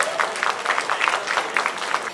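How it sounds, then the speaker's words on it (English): An audience at a university youth festival applauds its panel of judges, steady dense clapping from a sizeable crowd sustained throughout, fairly close and loud, with no talking over it. "Give a huge round of applause for a panel of judges"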